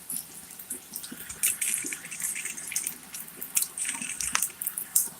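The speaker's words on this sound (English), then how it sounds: "now, turn on the hot water" Hot water running from a kitchen tap during chicken preparation, a steady hiss of flowing water with small splashes and gurgles, fairly close and continuous with no talk.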